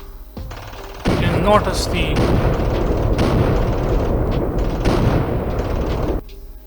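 Gunfire from a player character in a Unity-built GTA-style video game cracks out in several bursts of rapid shots, loud and close, with someone talking over the shooting.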